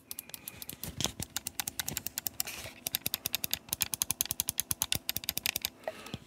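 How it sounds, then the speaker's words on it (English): Rapid, crisp clicking of tactile mechanical face buttons on an EasySMX Mechanic Master X10 Hall Effect controller, pressed in quick irregular bursts and fast runs close to the microphone, with no talking. "as you hopefully you heard the clicking of them, so they're like a kind of like a blue switch"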